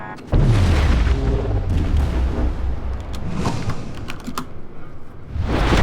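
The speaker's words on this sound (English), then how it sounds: "Okay, there's more torpedoes. Yep, and those are gonna hit." In World of Warships, torpedoes strike a ship as a heavy, sustained rumbling boom erupts, with rolling low explosions that swell, dip and flare again near the end, loud and close with no talk.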